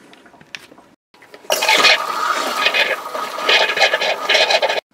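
An RV toilet flushes during winterizing of the plumbing system: after a quiet start, a loud rushing, gurgling flush begins and holds for about three seconds before cutting off abruptly, close by, without speech.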